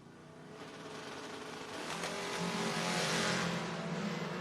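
A drag-racing Camaro launches down a strip alongside a second car, a loud broadband engine roar building and holding steady over several seconds at close range, with no voices.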